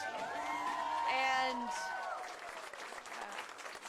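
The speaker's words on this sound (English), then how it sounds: "Please give Anastasia another round of applause." Applause and cheering from a campaign-event audience for someone's introduced speaker in Pennsylvania, loud at first with voices and whoops over dense clapping, then fading into scattered claps and crowd noise.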